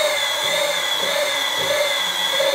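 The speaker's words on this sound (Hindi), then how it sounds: "इस तरह ग्राइंडिंग से मिक्स कर सकते हैं, एक ग्राइंडर है ये मिक्स करने के लिए" An electric grinder fitted as a mixer churns Laticrete 335 Super Flex tile adhesive. It gives a loud, steady high-pitched whine with no breaks, close by and heard alone.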